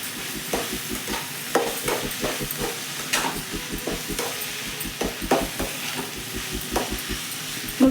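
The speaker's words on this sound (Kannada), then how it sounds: "ಟೊಮೊಟೊ ಮೆತ್ತಗಾಗೋ ತನಕನೂ ಕೂಡ ಫ್ರೈ ಮಾಡ್ಕೋಬೇಕು." Tomatoes and drumstick leaves fry in a pan with a steady sizzle, while a utensil scrapes and stirs in a quick, regular rhythm of knocks, close and moderately loud, with no talk.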